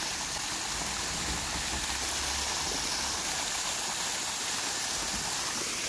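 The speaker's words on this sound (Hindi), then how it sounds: "बारिश के बाद जो को ये झरना निकल आया है" A waterfall near Khurpa Tal in the Nainital area, flowing after heavy monsoon rain, gives a steady, dense hiss of rushing water that stays constant and fairly distant throughout, with no voices.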